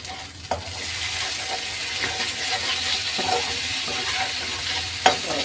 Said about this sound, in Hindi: यहाँ पर मेरा मसाला फ्राई हो रहा है